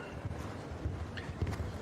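Show jumping horse hooves thudding on arena footing at an indoor Christmas competition, soft muffled clip-clop beats in a steady stride under ambient crowd hall noise.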